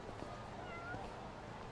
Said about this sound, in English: Okay, there's a cat.